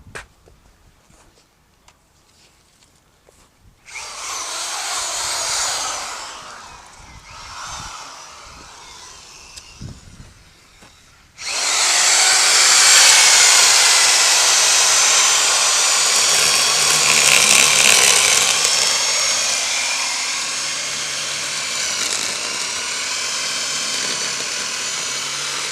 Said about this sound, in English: Wes is going to get this third and final hole drilled out